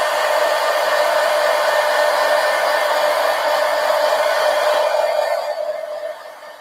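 A hair dryer blows steadily up close to dry ink on a lionfish poster, giving a loud, even whir for several seconds that fades as it is switched off.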